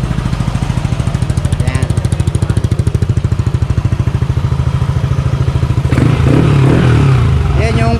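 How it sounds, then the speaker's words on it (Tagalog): A 180cc Nmax/Aerox motorcycle idles close by through its touring exhaust pipe, a loud, rapid, steady putter with a fixed rhythm, and someone speaks over it near the end. "Yan yung pipe niya, medyo tahimik. Hindi siya ganun kalakas tumunog kasi naka-adjust dito."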